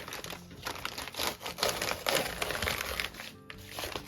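Packaging being crumpled and torn apart by hand for a craft project, a continuous close crinkling and rustling with brief tearing bursts and no talk.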